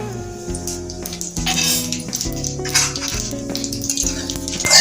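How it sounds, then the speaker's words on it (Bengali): Cumin seeds fry in oil with a light sizzle, joined by occasional clinks of a utensil against the pan, all under background music. "জিরেটা ভেজে নেব"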